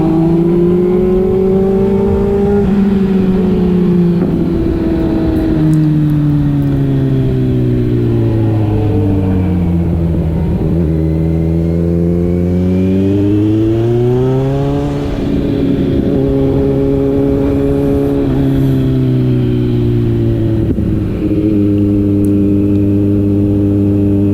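A Kawasaki Z900 motorcycle engine rises and falls through the gears while riding on a village road, with strong, steady harmonics shifting in pitch as the rider eases on and off the throttle, loud and close throughout.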